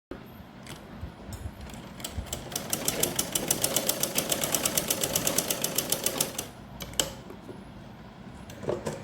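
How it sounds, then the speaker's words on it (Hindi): A sewing machine stitches a dress in a fast, even run of mechanical clatter lasting a few seconds. It starts and stops with brief handling knocks, close up, with no speech. "तो आइए लगाते हैं सिलाई।"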